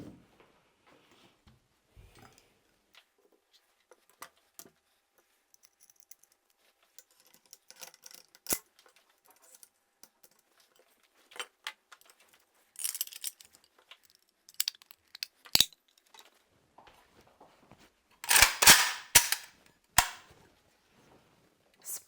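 Metal parts of an AK-74M rifle with a Sport-4 kit clicking and snapping together during assembly, scattered sharp clacks and taps building to a dense cluster of loud clanks near the end, with quiet handling between.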